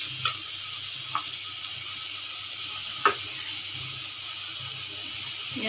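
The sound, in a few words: hot water poured into a pan of curry masala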